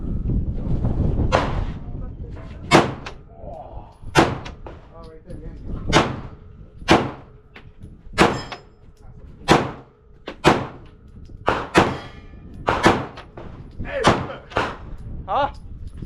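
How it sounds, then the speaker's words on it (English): Gunshots at an indoor gun range, a dozen sharp loud reports fired one at a time at irregular intervals of about a second, with people talking quietly between shots. "Now you can point and shoot."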